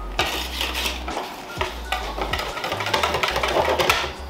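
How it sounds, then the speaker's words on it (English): A lemon layer mixture whisked gently in a bowl, the whisk ticking and scraping against the sides in quick irregular strokes, close and clear with a low electrical hum underneath. "Just trying to gently whisk this to combine it all"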